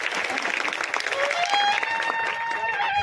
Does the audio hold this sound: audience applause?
yes